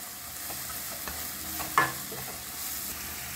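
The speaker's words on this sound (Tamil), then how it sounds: "வெங்காயம் இப்போ வதங்குறதுக்கு நம்ம கொஞ்சம் உப்பு ஆட் பண்ணிக்கலாம் அப்புறம் சீக்கிரம் வதங்கும்" Sliced onions sauté with a pinch of salt in a kadai, giving a soft continuous sizzle with a single sharper scrape of the spoon against the pan partway through, quiet and close with no voices.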